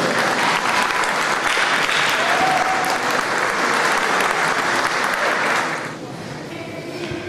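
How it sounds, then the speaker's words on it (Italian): A small crowd at a cycling club's thank-you celebration applauds, a dense, even burst of clapping that holds steady before thinning out toward the end. "un applauso, un piccolo applauso"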